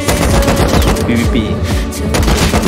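Loud, close automatic gunfire in the survival game Rust, a dense sustained burst of rapid shots with overlapping impacts filling the whole moment, a voice faintly beneath it.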